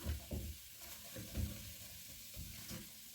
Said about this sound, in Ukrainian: Додаю печериці і обсмажую на великому вогні до золотистої скоринки.